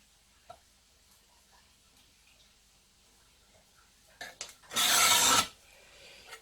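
A slate tile scribed with a sharp tool to make a pleco breeding cave, a short, loud, harsh scraping rasp near the end, preceded by a few light taps and clicks in a quiet room.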